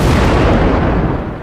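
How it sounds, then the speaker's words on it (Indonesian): A cartoon bus blows up in a loud, close explosion effect: a massive broadband blast that fills the whole moment and slowly tails off, with no voices. "itu kenapa malah tiba-tiba meledak busnya?"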